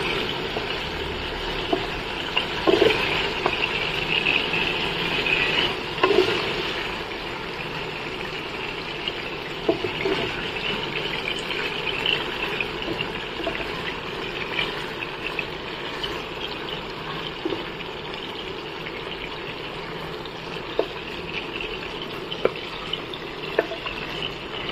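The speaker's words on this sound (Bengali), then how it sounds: "এবার চিকেনগুলোকে ভালো করে ভেজে নেব।" Chicken pieces fry in hot oil in a pan, making a loud, continuous sizzle and crackle with occasional stirring clatter, steady from start to finish.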